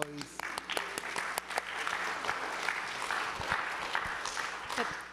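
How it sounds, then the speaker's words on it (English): An audience at an artist Q&A after a film screening claps steadily for several seconds, with some talking under the applause. "That definitely deserves an applause."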